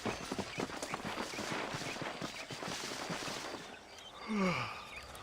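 Horse hooves clip-clopping in the video game Red Dead Redemption, a quick steady gallop of hoofbeats up close that slows and fades, followed by a short whinny-like call.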